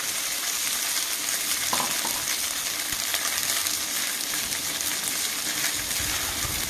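Sesame tempering with curry leaves, dried red chillies and asafoetida sizzles steadily in a pan over a medium flame while being stirred, a continuous close frying hiss with no talking.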